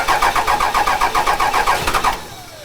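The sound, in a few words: Cummins diesel engine cranking after VP44 injection pump install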